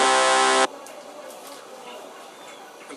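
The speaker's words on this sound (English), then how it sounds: "Square plus square plays 2 square waves." A short, hollow, buzzy synth note from two stacked square waves sounds loudly for a moment, then stops, leaving faint background noise.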